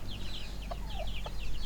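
Tagalog native chickens cluck softly among chirping birds, with a few short clucks over a steady outdoor background.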